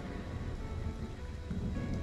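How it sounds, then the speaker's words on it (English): Thunderstorm in the survival game Stranded: Alien Dawn, with steady rain and a low rumbling wash of thunder filling the background at moderate level, no talk. "And they come during a thunderstorm?"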